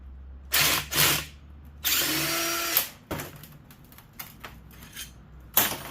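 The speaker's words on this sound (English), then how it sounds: "Drill." A power drill whirs in short, close bursts while motors are scrapped and bolts are worked loose on top of AC units, with metallic clanks and rattles between the bursts.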